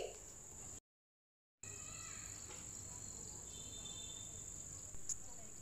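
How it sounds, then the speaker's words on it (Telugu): Thin, continuous high-pitched trilling of crickets in a rain-washed garden, faint and steady throughout with a brief silent gap near the start. "క్రికెట్ అంటారు కదా, ఆ పురుగు శబ్దమే అని అనుకుంటున్నా నేను"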